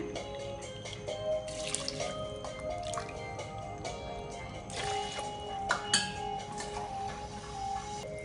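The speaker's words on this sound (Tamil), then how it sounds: "ஒம்பது கப்பு தண்ணி ஊற்றியிருக்கேன்" Water is poured into a pot to cook rice porridge (nonbu kanji), nine cups in all, heard as a quiet splashing trickle with drips and small clinks of the vessel, with no talk.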